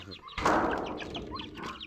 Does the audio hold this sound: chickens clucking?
yes